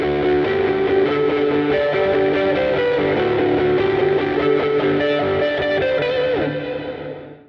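Electric guitar run through a Line 6 Helix Prize Drive overdrive at 9 volts, playing sustained distorted chords and melodic lines with reverb, loud and continuous before fading out at the end.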